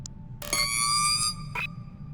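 An alarm goes off in the co-op horror shooter GTFO, a bright electronic tone with stacked harmonics sounding twice, a long blast followed by a shorter one, over low game rumble.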